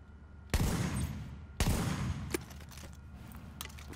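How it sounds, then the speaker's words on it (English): A high-end double barrel shotgun fires in the video game The Division, two loud booming blasts about a second apart followed by a smaller crack and fading echoes, with no talk. "So let's get back to showing off the double barrel."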